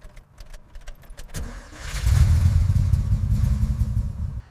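A 428 V8 in a Shelby GT500 named Eleanor cranks and fires up after a few clicks and rattles, then settles into a loud, deep, rumbling idle close by.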